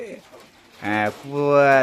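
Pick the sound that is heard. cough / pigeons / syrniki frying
pigeons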